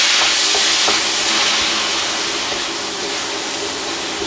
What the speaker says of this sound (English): Okay, let's turn up the heat and cook the onions up.